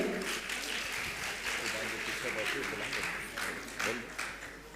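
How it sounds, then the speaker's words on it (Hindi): Audience clapping at a Jain monk's question-and-answer discourse as a man named Amit comes up to the microphone; steady, moderately quiet applause lasting throughout, with a faint murmur of voices underneath. "ताली बजाएं अमित भैया के लिए"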